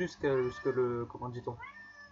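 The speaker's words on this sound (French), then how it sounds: "Excusez-moi du chat qui va miauler un petit peu" A house cat meows several times in a row, drawn-out and tonal, then gives a shorter final rising call, close to the microphone indoors.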